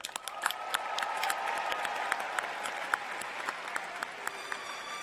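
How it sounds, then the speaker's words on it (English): A commencement crowd at UCLA's Pauley Pavilion applauds philosophy graduates with a sustained wash of clapping, sharp individual claps standing out, heard from a distance at moderate volume and without speech. "Let us cheer the philosophers."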